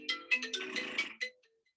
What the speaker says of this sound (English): let me shut off my phone here